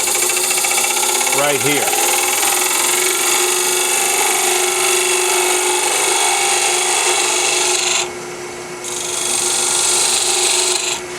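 A wood lathe spins continuously while a tool hollows the inside of an ambrosia maple jar, giving a loud, steady scraping rasp that dips briefly near the end, with a voice speaking over it at the start.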